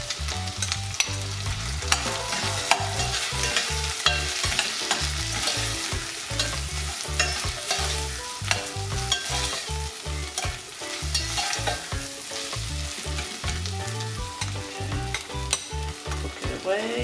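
Garlic and onions fry in a pan, sizzling loudly and continuously while a utensil stirs and scrapes in a brisk, irregular rhythm throughout.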